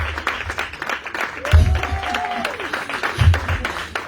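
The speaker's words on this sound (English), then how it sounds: "Stand up, you need to be applauded." Audience applause for Mr. Franklin and his wife at a book launch event, a diffuse wash of clapping through the hall, with voices and crowd chatter mixed in.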